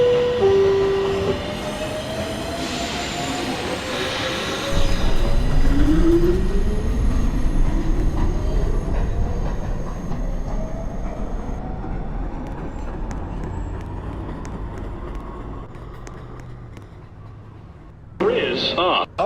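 A Manhattan-bound 2 train pulls out of a New York subway station at night, its motors rising in pitch with rumbling wheels and squeals as it moves off and fades, loud and close, with station announcements heard.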